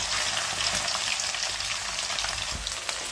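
Chicken pieces frying in hot oil for an Andhra-style spicy chicken fry, a steady close crackling sizzle with dense popping throughout and no talking.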